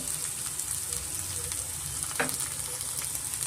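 Onions and capsicum fry in a pan for an egg rice dish, a steady close sizzle with a brief stir partway through, and no voices.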